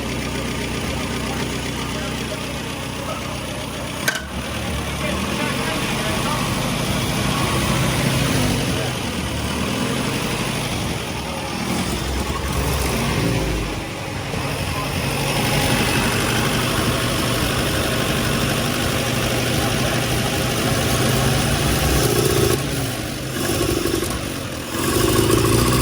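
A Morris Oxford running on stale fuel with the choke out idles with a steady, rumbling engine note that holds for about twenty-five seconds, with one sharp knock early on.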